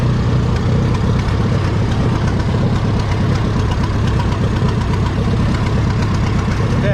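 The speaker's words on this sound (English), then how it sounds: "Glad to run and get the tractor." A vintage D14 tractor in the 3,500-pound class runs at a tractor pull in Lynden, Washington, its engine a loud, steady, close rumble with a rough knocking texture that holds unbroken throughout.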